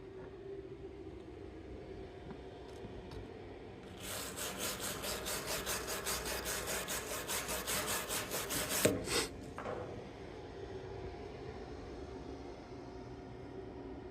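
A wire brush scrubbing a welded steel seam on a window well cover, a steady rapid rasping lasting about five seconds after a quiet start, then a couple of short final strokes before quiet returns.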